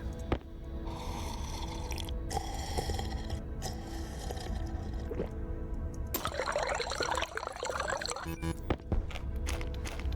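Water pouring into bottles from a bottle filler in the space-survival game Stationeers, a steady trickling flow over a continuous machine hum, with a brighter splashing stretch near the end.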